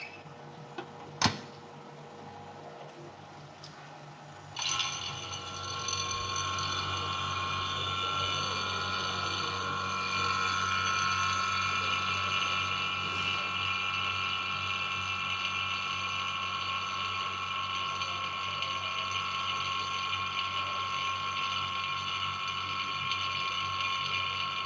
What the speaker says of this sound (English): we will close the chamber and start the vacuum pump to achieve the vacuum inside